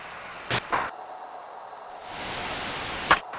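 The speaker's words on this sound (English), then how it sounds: "It's one of the white noise channels turned up way too loud, and you can't turn it down or off." A Sega 32X baseball game plays a harsh white-noise crowd sound far too loud, a hissing swell that rises and holds, cut by a few sharp bursts of game noise, with no talking.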